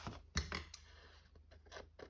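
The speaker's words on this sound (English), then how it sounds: "Grab my scissors and I'm going to trim these edges off here." Scissors trimming the edges of a paper card, heard as a string of close, quiet snips and crisp paper scrapes with irregular timing.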